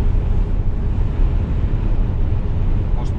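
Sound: wind

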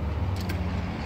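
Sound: road traffic noise outside office

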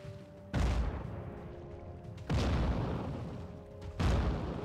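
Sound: cannon shot in video game

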